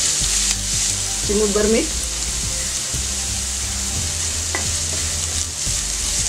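Onion frying in oil in a pan over full gas, a constant loud sizzle with faint stirring scrapes; a voice speaks briefly over it.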